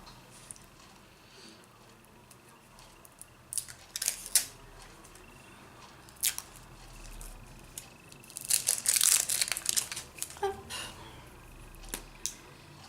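Parcels being opened and their plastic packaging crinkled and torn, with scattered close rustles and sharp crackles that build to a busy burst of tearing and crinkling, with a few small clicks.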